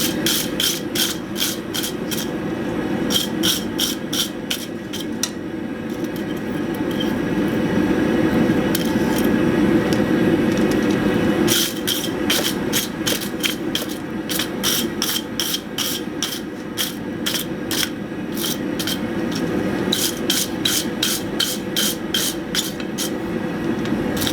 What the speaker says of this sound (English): A quick brushing.